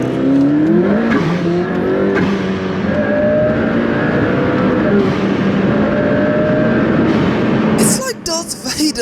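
A McLaren P1's twin-turbo 3.8-litre V8 engine roars and revs loudly and steadily, the pitch climbing and dropping with turbo whine, then abruptly cuts to rushing noise near the end.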